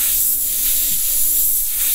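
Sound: airbrush spraying paint

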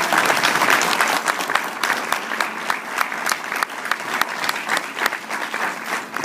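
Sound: audience applause

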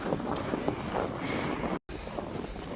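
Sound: wind blowing snow off tree branches on a mountain

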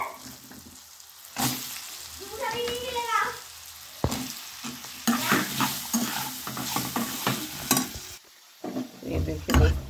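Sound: stirring cut carrot and radish into hot oil for pickle

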